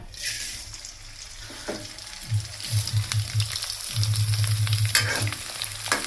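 Colourful fryums dropped into hot oil in a kadai, giving a steady frying sizzle with bursts of bubbling and a few soft knocks, heard close and fairly loud with no talking.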